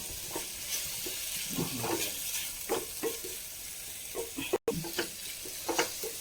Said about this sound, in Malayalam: നന്നായി ഒന്ന് ഇളക്കി യോജിപ്പിച്ച്